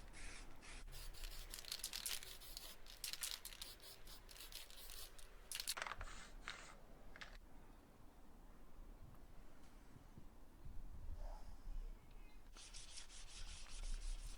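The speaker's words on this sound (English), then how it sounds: "I also gave a quick sanding to the trim pieces with 1000 grit sandpaper" Old 90s wall clock trim pieces are hand-sanded with 1000-grit sandpaper in quiet, soft rubbing strokes that come in bursts separated by short pauses, with no voices.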